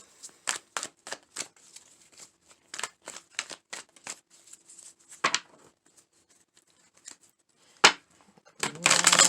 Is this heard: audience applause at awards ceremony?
no